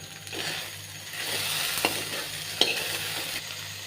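Okra (bhindi) sautéing in a pan on a low flame, a gentle continuous sizzle with occasional light clicks and scrapes of a spoon, close by with no voices.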